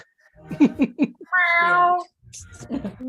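A cat gives one drawn-out, complaining meow, loud and close, set between bursts of people talking and laughing.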